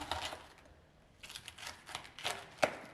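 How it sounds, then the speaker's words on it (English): A knife cuts the core out of a cabbage with quiet, crisp crunching and scraping strokes in irregular bursts, close up, ending in a sharp snap. "Let's cut this core out again."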